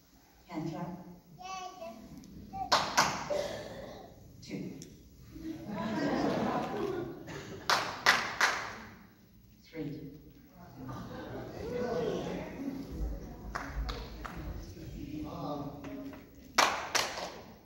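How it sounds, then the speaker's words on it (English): Sharp hand claps ring out during a church miracle service: a few close pairs and single claps spread through the clip, under continuous talk and a voice. "Do you hear the hand clap?"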